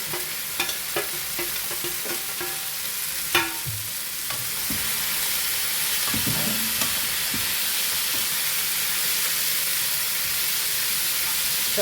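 Green mango, tomatoes and onion hit a hot pan with a few clattering knocks, then settle into a loud, continuous frying hiss that runs close and unbroken to the end.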